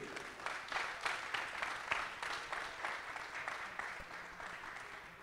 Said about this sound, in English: Big applause to Julia Chernoy